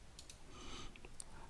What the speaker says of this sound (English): I'm going to type it in manually.